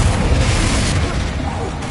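Confringo spell blasts in the Hogwarts Legacy video game: dense, continuous booming explosions roll loudly and heavily, close up, for the whole stretch with no gaps.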